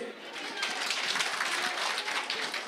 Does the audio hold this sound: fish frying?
no